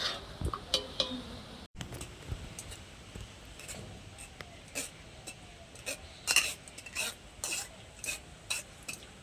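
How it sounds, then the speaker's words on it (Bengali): Raw mango pulp for aamsotto pressed and scraped through a strainer with a spatula, separating out the skins: soft rasping, rubbing scrapes in an irregular rhythm, close and quiet, with no talking. "এই ছাঁকনির সাহায্যে আমের কাতটা এখন বের করে নেব"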